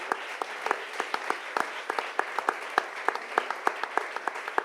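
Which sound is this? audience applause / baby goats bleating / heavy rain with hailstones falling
audience applause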